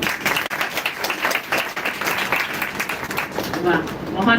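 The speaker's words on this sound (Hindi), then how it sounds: "तो ताली दो ना।" A seated audience at a Janmashtami celebration gathering claps continuously, a dense, steady wash of applause with a voice faintly audible beneath it.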